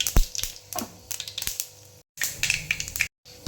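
Mustard seeds pop and crackle in hot coconut oil in a pan, giving dense, close bursts of sharp spattering crackles that start and stop abruptly, with no talking.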